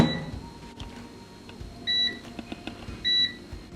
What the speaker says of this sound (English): pop them into the air fryer.